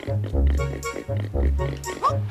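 A cartoonish pig oinks in The Legend of Zelda: Wind Waker, giving repeated loud, close grunting snorts in quick succession.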